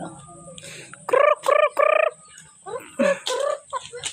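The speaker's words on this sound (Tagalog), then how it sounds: "Ang daming mga manok." Several chickens call out in loud, throaty bursts, three close together and then a few more, over a quiet farmyard background.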